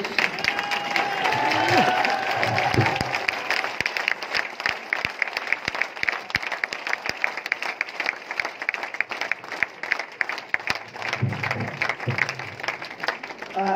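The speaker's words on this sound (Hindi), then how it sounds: "आप लोग खड़े होकर ताली बजा दिए सब लोग" An audience stands and applauds, with dense, steady clapping from a large crowd that carries on evenly throughout, joined by a few voices at the start.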